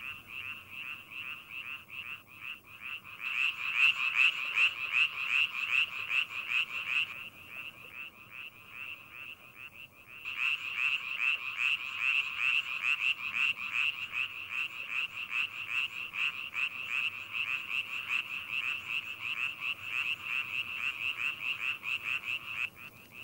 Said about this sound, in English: In their quest for mates, male Chinese tree frogs engage in croaking tournaments.